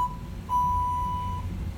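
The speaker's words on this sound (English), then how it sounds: "And we'll ring the bell." A thyssenkrupp traction elevator in the UPMC Medical Arts Garage in Pittsburgh sounds its bell as a single steady electronic tone, held about a second over low background hum.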